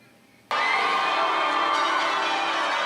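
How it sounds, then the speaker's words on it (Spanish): Westminster Abbey church bells burst in after a moment of near quiet, a dense wash of overlapping peals ringing loud and continuous. "Las campanas de la abadía de Westminster anunciaban hace una década"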